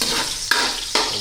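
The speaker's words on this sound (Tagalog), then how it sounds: "Gisa-gisa lang." Garlic sautéing in a pan gives a bright, steady sizzle, with two quick stirring scrapes cutting through over about a second.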